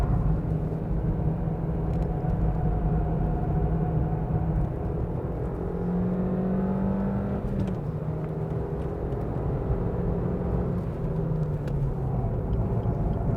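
Steady low engine drone and road rumble from a tuned rental car with a 1.4-litre turbo engine while driving, with gliding pitch shifts as the revs change and no talk.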